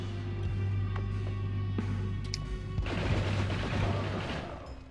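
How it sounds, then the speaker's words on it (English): Explosions in the Noita video game: a few sharp bangs, then a loud crackling burst of blasts that rumbles on and fades out over a low steady drone. "Don't like hearing big explosions."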